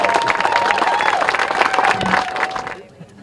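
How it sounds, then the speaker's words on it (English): Crowd applause rings out at an outdoor ribbon cutting for new pickleball courts, brisk clapping from many people with some cheering and voices mixed in, fading abruptly near the end. "One more round of applause."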